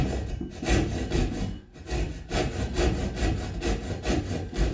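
A hand saw cuts wood along a knife line for an overhand lap joint. The steady, rhythmic back-and-forth rasping strokes are close and loud, with no voices.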